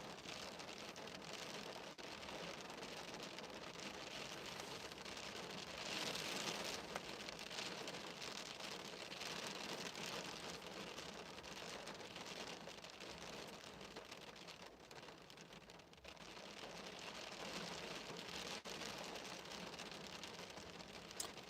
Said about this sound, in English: let me know if it gets too loud, the rain.